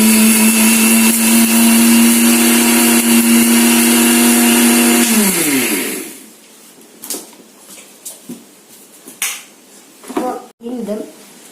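A kitchen mixer grinder powders cloves, cardamom and sugar with a loud, steady whirring motor that runs for about five seconds, then winds down and stops, followed by light clinks and handling noises.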